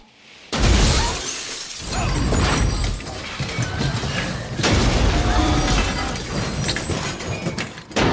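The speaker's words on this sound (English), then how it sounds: "We have hit the ground very hard, smashed all the glass." A Range Rover smashes through the Louvre's glass pyramid: a sudden, loud crash of shattering glass that continues for several seconds as debris rains down, with no voices.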